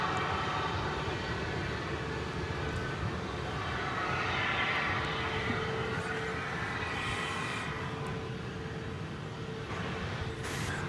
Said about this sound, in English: This aircraft is going to Los Angeles